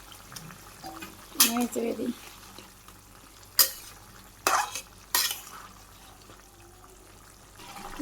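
A spoon stirs fish pieces into a simmering potato and cauliflower curry in a pan, giving a few separate scraping, clattering bursts over a faint, quiet bubbling background.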